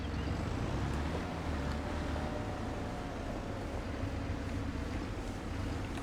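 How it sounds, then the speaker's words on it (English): A tractor in the Farming Simulator 25 farming game drives steadily with a continuous low engine rumble and broadband road noise, alone and unbroken throughout. "Right, let's grab the tractor."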